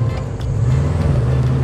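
An air-cooled Volkswagen Beetle is driving, its engine making a loud, steady low drone up close for a brief moment.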